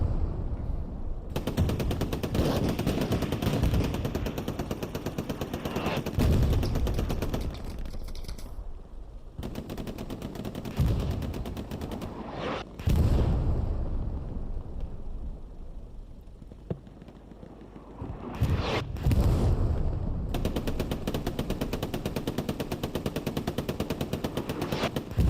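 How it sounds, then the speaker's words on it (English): Dense, sustained bursts of gunfire and heavy explosions from artillery fill a World War II battle in the game Hell Let Loose at St Mere Eglise, loud and continuous with brief lulls. "That artillery is causing a serious problem for 9 mate."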